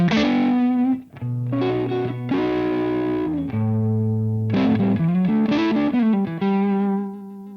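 Distorted electric guitar through an Orange Terror Stamp amplifier plays sustained chords and single notes in changing shapes, loud and saturated, each held briefly before the next, fading out at the end.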